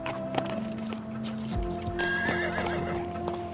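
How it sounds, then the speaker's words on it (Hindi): A horse neighs loudly with a shrill whinny while hooves clip-clop as it moves off, set against a busy layered background in a dramatized story scene. "वो भी अपने घोड़े की लगाम कसते हैं और महल से निकल जाते हैं"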